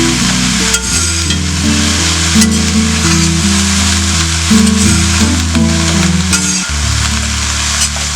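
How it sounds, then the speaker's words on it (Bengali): Chopped bottle gourd greens fry with shrimp in a pan, a steady loud sizzle running throughout with occasional stirring scrapes over a constant tonal hum or background music. "এরপরে শাকটা যে কুচি কুচি করে কেটে ধুয়ে রাখা সেটা দিলাম।"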